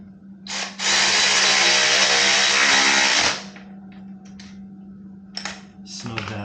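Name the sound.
tightening nut on Ohlins shock spring of Triumph Speed Twin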